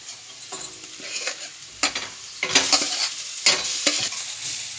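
Soybeans and black chana dal are stirred into frying spices with amchur in a pan: repeated scraping strokes of the spoon over a steady sizzle, close and fairly loud, with no voices.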